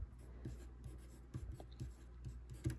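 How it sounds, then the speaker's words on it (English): A pencil writing on a plastic plant marker for winter-sown flowers, with a steady scratching stroke and a few sharper taps and scrapes, close and fairly quiet with no talk. "I will write on it in pencil"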